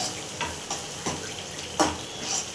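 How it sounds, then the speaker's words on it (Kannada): Spices with coriander powder, chili powder and salt frying in a pan for gobi manchurian, a soft steady sizzle with several brief stirring scrapes and clicks, close by and without speech. "ಇದೆಲ್ಲ ಸ್ವಲ್ಪ ಫ್ರೈ ಆದಮೇಲೆ ನಾವು ಮಾಡಿಟ್ಕೊಂಡಂಥ ಡ್ರೈ ಗೋಬಿ ಹಾಕ್ಬಿಟ್ಟು"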